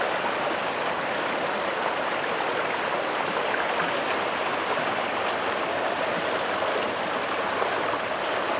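Snowmelt from the Ohanapecosh Glacier on Mount Rainier rushes strongly down the Ohanapecosh River, a steady, loud, full roar of flowing water with no letup.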